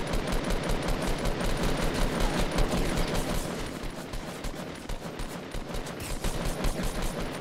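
Rapid automatic gunfire in Fortnite Battle Royale, a steady fast string of loud shots lasting throughout, briefly thinning mid-way before resuming.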